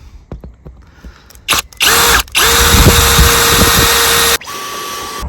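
Power drill boring a hole with a larger bit after a pilot hole, for fitting grommets during a campervan-style build: loud sustained whining bursts, with a brief pause between two drilling runs, then the motor winding down, no talk.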